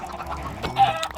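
A chicken in Minecraft gives a short burst of clucks, close and clear, lasting about a second with no talk.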